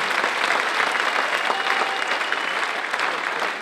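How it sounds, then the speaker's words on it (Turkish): Audience applause at a live show in Tashkent, a thick, continuous crowd clapping that stays steady and fairly loud for the whole stretch, with no talk over it. "Alkışlar bacılarımıza olsun diyor."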